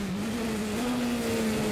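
A WEC race car engine drones steadily during practice at the 24 Hours of Le Mans, a sustained even tone at moderate distance with no voices over it.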